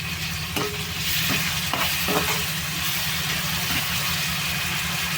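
Sliced onions with salt fry in a pan with a steady, loud, continuous sizzle, while a few soft stirring scrapes cut through near the start.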